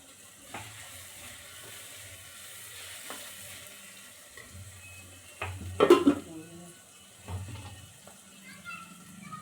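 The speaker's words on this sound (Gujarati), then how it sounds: "એમાં થોડીક આપણે હિંગ નાખી દેવાની વઘારણી" Asafoetida is added to hot oil for a tempering, giving a faint, low sizzle. A cluster of spoon-and-pan clinks rises briefly above it midway.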